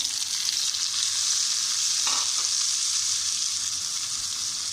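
Steady sizzling of ginger, garlic and onion frying in a pan, with tomatoes and green chilies, and a brief stir or clink partway through; no talking.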